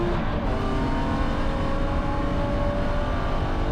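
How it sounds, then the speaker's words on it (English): A BMW E9X spec race car laps Gingerman Raceway during a race. The engine is loud and close as an in-car drone, with a steady roar and some rising revs that last the whole moment. "we get one more lap to finish the race"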